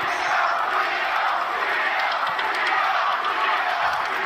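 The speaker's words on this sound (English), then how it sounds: "The crowd is loving what they are seeing out of Brooklyn's Teofimo Lopez" Boxing arena crowd cheering during the last round of a junior welterweight title fight, a steady loud roar of many voices filling the hall without pause.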